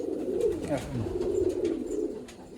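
Pigeons coo in a loft of lively show birds, with soft rolling calls that repeat steadily and close by. Faint background noise sits beneath them.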